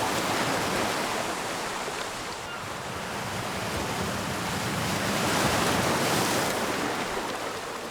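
Waves break on a pebble beach on a Wando island coast, a continuous broadband roar of surf that swells and recedes in long rumbling surges, loud and close with no voices.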